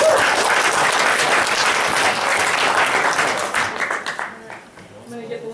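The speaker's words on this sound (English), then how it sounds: "let's clap it up for the film" An audience at a campus skeptics' society event applauds a film screening, a dense, loud burst of many hands clapping that holds steady, then thins into scattered claps and fades near the end.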